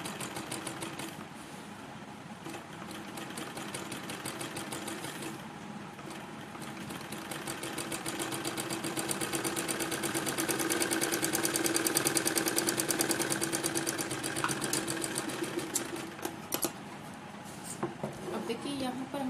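A sewing machine stitches the lining of a kurti in a steady, continuous rapid mechanical whir that rises slightly in the middle, with a voice talking over it.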